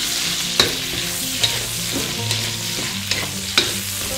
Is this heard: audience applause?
no